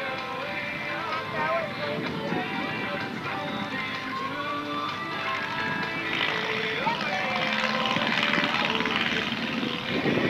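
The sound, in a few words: clip-wing Taylorcraft airplane after landing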